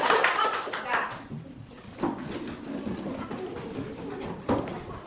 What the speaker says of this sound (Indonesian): Kita tepuk tangan untuk kelompok dua.